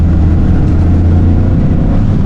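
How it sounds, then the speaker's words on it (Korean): A Toyota GR Corolla's engine revs under throttle from inside the car, a loud, dense low-pitched growl that holds steady and close with no talking over it. "이게 좀 스로틀 넣고 엔진 목청을 키우면 V6 느낌처럼 약간 소리가 6기통 느낌이 좀 나는"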